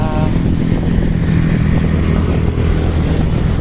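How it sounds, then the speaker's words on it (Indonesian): A 2018 Honda Vario 150 scooter engine idles and runs steadily up close, a continuous loud mechanical hum with no change in pitch throughout. "Ini motor saya ini tahun 2018 ya."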